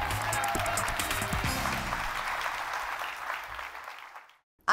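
Audience applauds for top dealers at a company event, a dense, loud burst of clapping that holds steady and then fades out.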